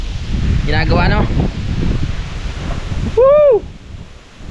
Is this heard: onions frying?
no